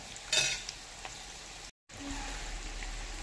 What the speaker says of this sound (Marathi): आता इथे अजून आपण 2 ते 3 मिनिटं छान अशी तळून घेऊया